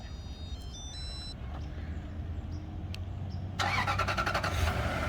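A Toyota 4Runner engine cranks and catches by remote start: a faint low hum with a few electronic chirps, then the engine fires up around three and a half seconds in and settles into a louder, steady running rumble.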